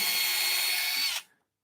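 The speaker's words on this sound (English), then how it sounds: "So just drilling our hole." Power drill boring a hole in wood through a simple jig block while building a side table, a steady close whine for just over a second before it stops abruptly.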